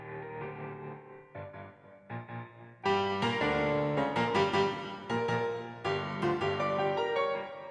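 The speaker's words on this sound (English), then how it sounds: "we ran the piano through, I think, a bass amp and a flanger" A piano run through a bass amp and a flanger plays bright chords and single notes in bursts with short gaps, the tone smeared and swirling, close up with no talking.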